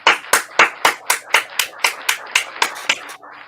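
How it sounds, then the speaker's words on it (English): About a dozen sharp hand claps in a steady, even rhythm, close and crisp, as a studio show audience applauds a departing guest; no talking. "One more round of applause for Arty's Corporate Fiction."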